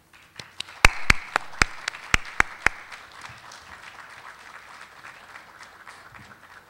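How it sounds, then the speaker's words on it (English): A forum audience on Connecticut school funding equity claps to welcome a speaker, with a few sharp close claps standing out over a softer spread of applause that swells briefly and then fades away. "Please give Dianne DeVries a warm welcome applause."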